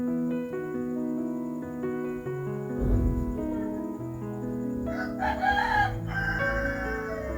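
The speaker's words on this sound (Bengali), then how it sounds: "মুরগিগুলো আস্তে আস্তে করে খেয়ে নিচ্ছে। আজকে বাহিরে ছেড়ে দিব।" Chickens and a rooster at home, with crowing rising midway over a bed of sustained, droning harmonic tones and some brief clucking, moderately loud and close.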